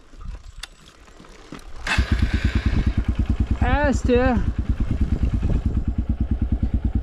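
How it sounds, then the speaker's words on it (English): A Honda XR150 motorcycle with a new aftermarket exhaust, airbox mod and carb jet upgrade starts pulling away, its single-cylinder engine pulsing in a loud, rapid, steady thump up close, with brief talk over it. "we're going to take a little ride on the XR150. Now that we've got the exhaust on,"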